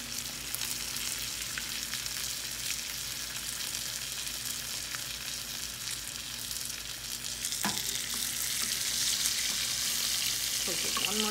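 Salmon fries skin-side down in a tilted pan, giving a loud, continuous close-up sizzle and crackle that swells a little louder toward the end, with no talk over it.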